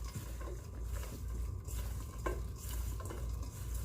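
Bread cubes from low-carb hotdog rolls being tossed in a bowl with parmesan, garlic powder and Italian seasoning: a continuous close rustling, pattering stir with steady loudness and no speech.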